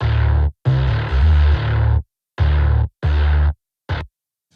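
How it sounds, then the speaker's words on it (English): A Tyrell N6 synth bass run through Neural DSP Parallax X gives loud, gritty, distorted sustained notes with deep low end. The notes come in choppy bursts separated by sharp silences. "So I started with a Tyrell N6 bass."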